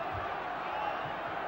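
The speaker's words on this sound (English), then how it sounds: "Suddenly it's the crowd at the other end of the ground who've erupted" A football crowd at the far end of the ground roars at an FA Cup semi-final involving Stoke in 1971, a steady, distant, muffled mass of cheering that holds level for a moment.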